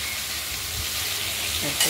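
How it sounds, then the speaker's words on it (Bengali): Steady close sizzling of thin catla fish pieces frying in oil, a continuous crackling hiss with a brief louder burst at the very end. "চারিদিকটাই ভেজে নেব আমরা তেলে"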